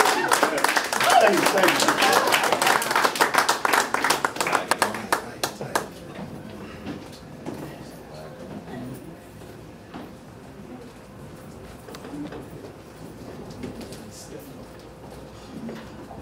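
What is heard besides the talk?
audience applause at poetry event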